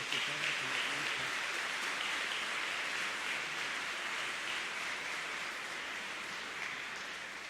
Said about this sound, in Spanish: damos un fuerte aplauso a nuestro coro